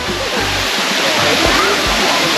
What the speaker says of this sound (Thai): ก็คือน้ำตกทานน้ำใส